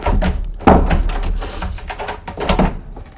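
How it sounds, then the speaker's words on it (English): An apartment door with a lock that has stopped working is opened, giving a few sharp knocks and clicks and a brief rattle in a quiet room. "when you open the door"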